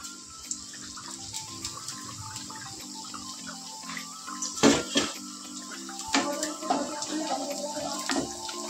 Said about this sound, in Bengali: রিয়া নিচের কলটা একটু বন্ধ করে দিস